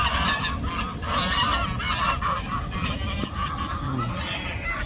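A flock of geese honks repeatedly and loudly at close range, overlapping calls filling the air without pause outdoors near a sprinkler area, with no talking.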